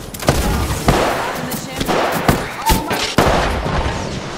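Explosions and gunfire in Apex Legends after a frag grenade is thrown: several sharp, loud blasts spaced about a second apart over a rumbling firefight, close and punchy.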